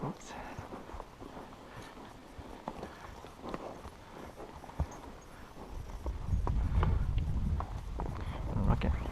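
Icelandic horses walking a mountain trail in Norway, hooves clopping in an irregular rhythm on rough ground, growing louder and heavier toward the end as the horses come closer.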